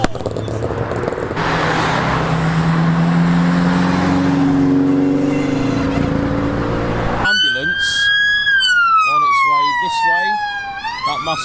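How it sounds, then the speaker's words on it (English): An ambulance siren wails past on a road, its rising and falling tone loud and close, sweeping in after a stretch of engine and traffic noise and continuing to the end. "another ambulance comes down the same direction"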